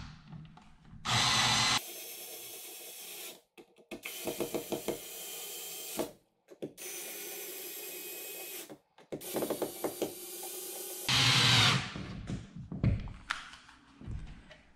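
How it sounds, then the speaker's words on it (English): A power drill or driver tightens screws to draw an electrical box snug against drywall, running in several loud bursts of whirring with ratcheting clicks and short pauses between them, heard up close with no talk. "We'll just tighten it down now against the drywall."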